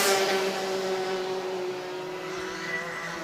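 Racing karts drone past on a track during a national karting championship race, a sustained high engine whine that fades slightly as they pull away.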